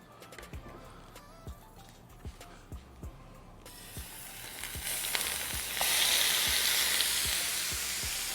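Garlic pork sizzles in a hot pot with a little oil, starting as a faint crackle with sharp regular pops and swelling into a loud, steady frying hiss.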